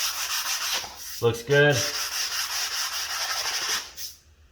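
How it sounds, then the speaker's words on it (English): Close, steady scratchy rubbing of a sanding block over tile grout corners, continuing with little break while a voice speaks briefly, then stopping near the end. "Come in with the scraper and a sanding block."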